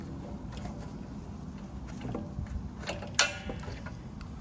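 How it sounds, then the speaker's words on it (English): Locking levers being loosened on an Art2Silkscreen Titan screen printing carousel give a single sharp mechanical click near the end, over a steady low background rumble. "Got the two locking levers here. You can loosen those off."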